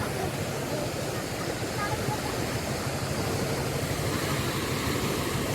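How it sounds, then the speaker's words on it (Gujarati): Steady, loud rush of floodwater after torrential rain in a village near Botad, Gujarat, filling the whole clip, a continuous broadband roar with no breaks. "કેવું પાણી જાય"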